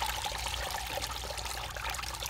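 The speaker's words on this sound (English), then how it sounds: "The water's actually flowing just as fast." Water runs out through an underground septic line in a steady, gurgling stream, a continuous moderate trickle and pour with no voices.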